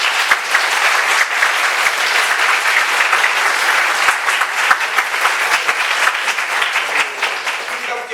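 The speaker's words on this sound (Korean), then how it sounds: "다시 한 번 박수 한번 주세요" An audience at a Baptist church's 2024 Christmas praise contest breaks into loud, dense applause that stays full and sustained throughout, with a few voices faintly mixed in.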